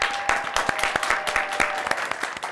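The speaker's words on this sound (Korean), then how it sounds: "일단은 박수로 한번" A small group of studio staff claps at the start of a Korean variety show shoot, producing steady, fairly loud, quick overlapping claps throughout with no talking.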